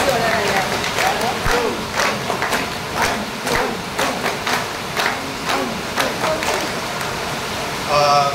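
A crowd at a felicitation ceremony applauds in the rain, with dense rhythmic clapping in waves over a steady hiss of rainfall.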